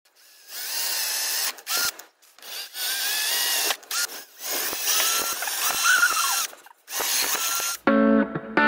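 A power drill whirs in a series of short bursts while driving wood screws through plywood to mount caster wheels on a homemade mouse arm pad, loud and close with brief pauses between runs.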